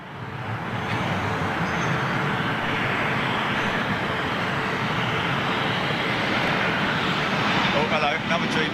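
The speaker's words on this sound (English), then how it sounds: "another Dreamliner being pulled into to gate" A Boeing Dreamliner being pulled into its gate at London Heathrow produces a steady broad roar of jet engines and airport noise, continuous and fairly loud throughout.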